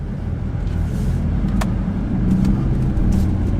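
An Audi R8 V10 Plus waits at a drag strip, its engine giving a steady, loud low rumble heard from inside the car with no revving and no talking.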